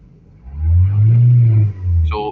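A Nissan NV400 van engine with a P-code fault revs up with a deep, steady rumble that swells, holds for about a second, then eases off before rising again briefly.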